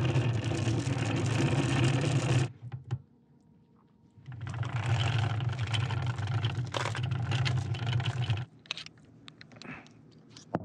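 A boat's motor runs loud and steady, cuts out for about two seconds, then resumes before dropping off again near the end, while working on the anchor chain.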